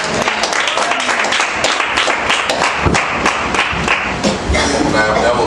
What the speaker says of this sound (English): give God a great big round of applause